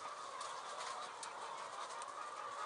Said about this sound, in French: Philippe Nallet élève des poules pondeuses.